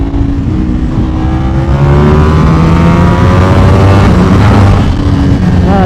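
A 2025 Ducati Panigale V4 superbike accelerates hard and loud, its engine note climbing in pitch through several rapid quick-shifter gear changes.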